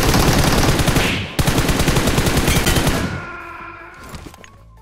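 Gunfire in PUBG Mobile: loud rapid automatic bursts, a short break, then more sustained fire that fades into quieter shots.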